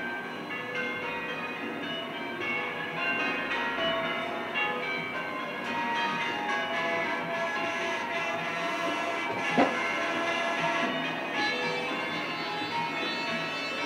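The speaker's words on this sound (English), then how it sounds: "I was just about to mention the bells, the belfry heading up this pageant here today." Bells peal steadily from a distance amid a busy outdoor wash of crowd and ambient noise at the Diamond Jubilee flotilla pageant on the Thames, the ringing sustained throughout.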